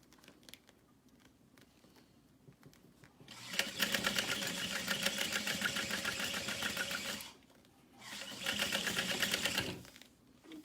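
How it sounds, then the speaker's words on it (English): A sewing machine stitches over a backpack handle in two bursts of steady, rapid needle chatter, the first running about four seconds and the second shorter after a brief pause, with quiet handling noise before. "we're going to sew over this handle as well"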